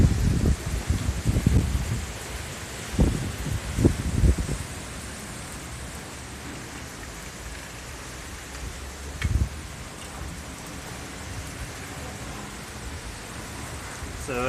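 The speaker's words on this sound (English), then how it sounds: "Awfully strong winds and look like a massive thunderstorm on its way." Gusty wind roars ahead of a severe thunderstorm, with heavy broadband rushing and low rumbling bursts early on, then a steady wash of wind noise with one more loud gust partway through; no speech.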